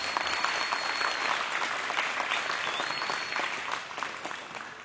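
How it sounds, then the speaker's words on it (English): Audience applause at a Holstein cattle show, a dense, steady clapping from a crowd that slowly fades toward the end. "let's give all three of those people a big round of applause."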